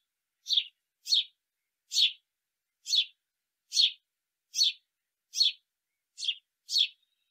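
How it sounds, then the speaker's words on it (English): Nine short, evenly spaced chirps from an English house sparrow, each a bright, clear call standing alone against silence, heard close and fairly loud. "That is the English house sparrow."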